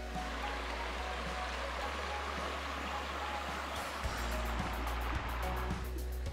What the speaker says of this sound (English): got two little falls.